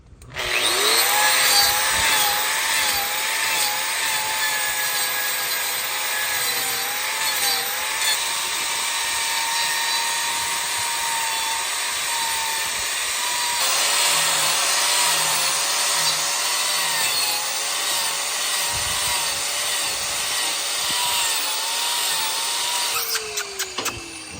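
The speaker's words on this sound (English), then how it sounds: "Power tools and cow feet." A power tool grinds continuously against a bull's hooves during trimming, a loud, close whine with wavering pitch and rubbing scrapes lasting over twenty seconds without talk.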